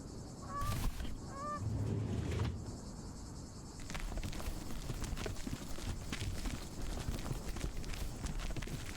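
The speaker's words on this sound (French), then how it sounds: "Oh, il y a une poule dedans." A chicken clucks twice in quick bursts inside a video game hotel reception area, short squawks early on over a steady game ambience hum, with no talk.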